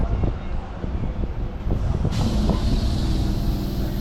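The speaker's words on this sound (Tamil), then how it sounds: "கோடம்பாக்கத்துக்கு அடுத்ததாக ட்ரெயின் இப்போ உள்ள என்ட்ரு நுங்கம்பாக்கம் ரயில்வே ஸ்டேஷன்" A suburban train pulls into Nungambakkam railway station in Chennai, carrying a steady, loud rumble of wheels and carriages with rhythmic clatters on the rails and a hiss rising partway through.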